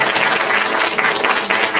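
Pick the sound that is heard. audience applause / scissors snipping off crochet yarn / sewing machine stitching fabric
audience applause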